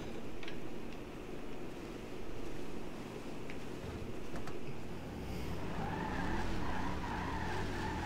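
Car skidding in a GTA roleplay game, a long grinding tire squeal and engine roar that rises and falls in waves, with a higher whining squeal toward the end.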